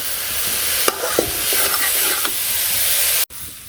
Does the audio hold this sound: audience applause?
no